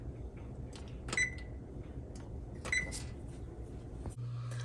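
A kitchen oven being set to preheat to 425 gives two short electronic beeps about a second and a half apart, clear against faint room noise, followed by a low steady hum as it starts.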